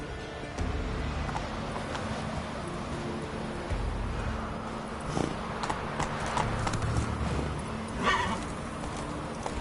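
Roach the horse gallops in The Witcher III, hooves clip-clopping in a steady rhythm over a constant outdoor wash, moderately quiet, with a short snort or whinny near the end.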